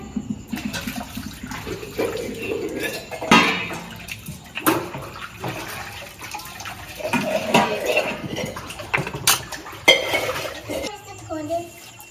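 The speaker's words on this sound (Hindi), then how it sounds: "उसके बाद इन बर्तनों को यहाँ पर सेट कर देते हैं।" Freshly washed kitchen utensils and pots being set into place in a home kitchen, with clinks and clatters of metal over running water and splashing, while people talk in the background.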